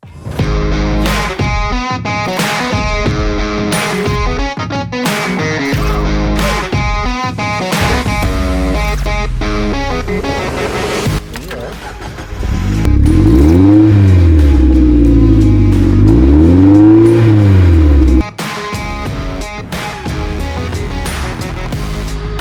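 Mazda MX-5 NBFL with the 146 hp VVT engine starting and revving hard, loud and close, with repeated sharp rises and falls in engine pitch and a steady idle between blips, no talking.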